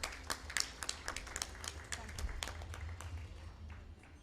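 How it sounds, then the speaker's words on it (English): Event audience claps for honoured women leaders at a business gathering, with sharp individual claps scattered over a busy hall and voices mixed in beneath. "They deserve a very loud round of applause."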